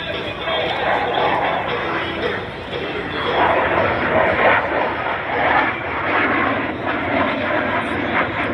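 A CF-18 Hornet fighter jet makes a slow, low pass at an air show with landing gear and fuel probe extended, its engine roar steady and loud throughout as a commentator talks over a public address.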